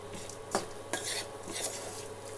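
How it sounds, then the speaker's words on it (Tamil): A spoon stirs jaggery through a cooking mixture in a pan over a low flame while making opputtu, giving soft scraping swirls and a couple of sharper metallic knocks against the pan, fairly quiet and with no voices. "இப்படி நல்லா சுற்றி நல்லா கிளறி கொடுத்துட்டே இருங்க"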